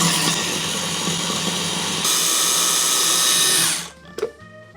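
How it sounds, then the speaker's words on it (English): A food processor blending pickles into a thick, creamy paste, a loud steady motor whir that shifts pitch partway through and then cuts off, followed by a few light clatters near the end. "Get a food processor, and then we blend them all up until they're a thick,"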